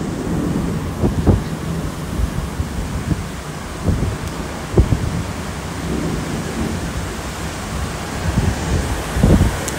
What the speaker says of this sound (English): There is thunderstorm and lightning, and you can see the rain as well.